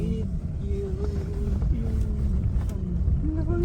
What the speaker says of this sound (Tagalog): Ba't parang motor yung tunog?